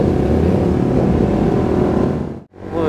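A sports motorbike or car at a busy Sunday morning ride gathering roars loudly and close as its engine revs, then cuts sharply to near silence before resuming.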